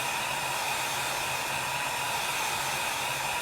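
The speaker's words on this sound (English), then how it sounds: "And we're just using our hair dryer to speed it along." A hair dryer blows steadily and close for several seconds, drying shimmer chalk paste on a holiday chalkboard sign craft, with no talking over its even whooshing hum.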